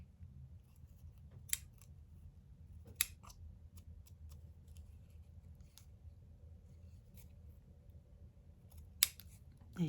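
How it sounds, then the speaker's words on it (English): Scissors snip off short thread ends on a small doily embellishment, a few sharp isolated clicks spaced seconds apart over a low steady background hum. "If you want to cut your little ends shorter, you can."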